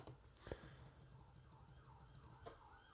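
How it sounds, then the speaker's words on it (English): A faint ambulance siren wails in the distance, its rising and falling tone barely audible through a closed window, with a few soft clicks nearby. "Ambulance."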